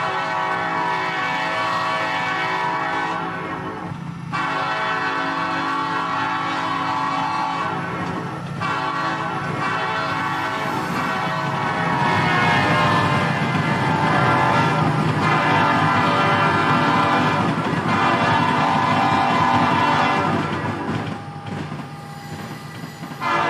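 NS Heritage and KCS Ace freight locomotives passing a crossing, with a long, loud, sustained horn blast over continuous rail rumble and wheel noise that swells as the train goes by.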